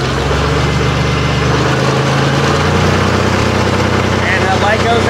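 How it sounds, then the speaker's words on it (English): A car engine running near and steady during alternator troubleshooting, a continuous low rumble that rises slightly as it is revved, with no pauses. "Rev it up a little bit."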